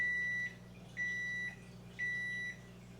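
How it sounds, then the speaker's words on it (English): A microwave oven beeps three times at an even pace, each tone a steady half-second electronic note over a low background hum. "you can ignore the microwave"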